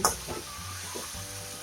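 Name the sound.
sautéing ginger, coriander and cumin masala in a pan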